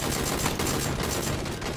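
Rapid gunfire in the video game PUBG, dense bursts of shots in quick succession, loud and near, with no talk.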